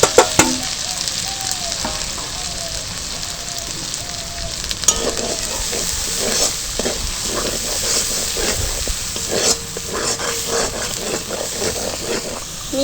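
Ground turmeric, cumin, coriander, black pepper and Kashmiri red chilli powders sizzle loudly in hot oil for a home-style vegetarian aloo biryani, a steady dense hiss with stirring scrapes throughout.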